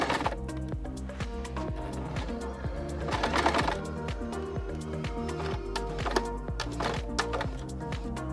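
A sewing machine runs steadily, stitching bias binding along an edge and around a corner with a continuous rhythmic clatter of needle strokes; nobody speaks.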